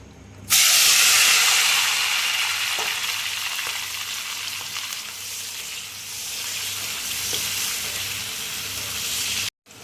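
Curry leaves frying in about three spoonfuls of hot oil in a pan, a loud, steady close-up sizzle and hiss that bursts in suddenly and holds for several seconds before cutting off.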